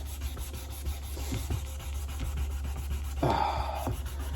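Fine 800-grit sandpaper rubbing out a small carbon burn mark before buffing, a steady low scratchy friction that surges into a brighter, harder rasp near the end, with a constant hum underneath.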